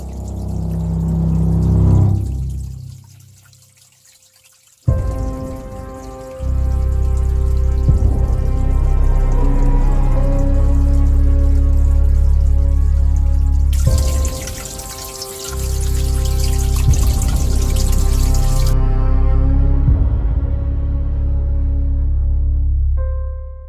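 A water tap runs and pours into a basin, starting after a short pause, then flowing steadily and loudly with a brief dip midway before resuming, with no voices.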